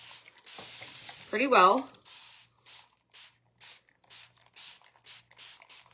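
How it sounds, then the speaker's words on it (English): A handheld spray bottle mists water onto chalk paste on a sheep design, giving about nine short, evenly spaced hissing squirts, close and crisp, after someone briefly speaks. "The key to remove your chalk paste, my friends, is some water and a little bit of friction, okay? So let's spray our paste"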